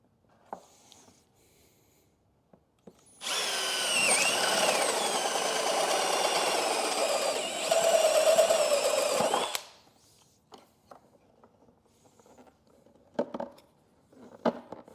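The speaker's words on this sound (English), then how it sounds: "drill the hole with that included bit" A power drill spins up with its included bit and bores a hole, a loud continuous whine lasting about six seconds that rises in pitch partway through, framed by faint clicks and handling noises before and after.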